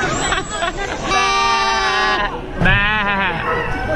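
A person imitates a baby lamb, letting out two drawn-out quavering bleats close to the listener, the second rising and wobbling, with laughter and chatter from others around.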